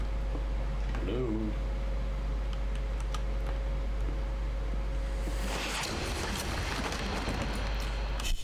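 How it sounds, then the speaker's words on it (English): A typewriter clacks in the horror video game Layers of Fear, with sparse, faint keystrokes scattered over a constant low ambient drone that swells into a noisy rush near the end. "I don't think that's usual typewriter noises."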